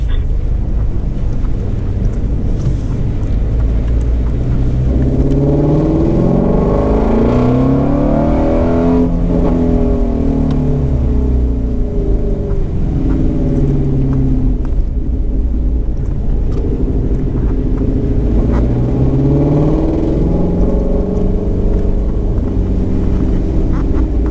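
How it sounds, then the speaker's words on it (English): A Ford Mustang GT350 accelerates hard on a race track, its loud, close engine note climbing and dropping through repeated gear changes over steady wind rush, with no talking. "start squeezing on the gas and go"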